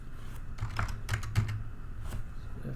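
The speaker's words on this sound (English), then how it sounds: "If I can type it right." Fast typing on a computer keyboard, a close, continuous patter of key clicks over a few seconds with no talking.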